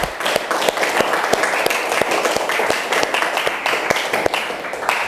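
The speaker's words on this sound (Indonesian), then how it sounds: "Tepuk tangan untuk Alif Azhar." Applause from a classroom of students during a teaching practice lesson: dense, steady clapping runs for the full five seconds at a fairly loud, even level, with sharper individual claps standing out across the wash.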